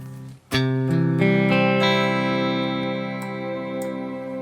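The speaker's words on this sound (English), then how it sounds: "Let's check out the shimmer here." Electric guitar chords played through a Neural DSP Gojira X plugin shimmer effect ring out with a shimmering, reverb-washed tail, bright sustained overtones hanging and slowly fading after each strum.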